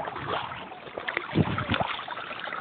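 A boat is paddled on river water, with soft splashes and knocks from the paddle over a light background of wind and water.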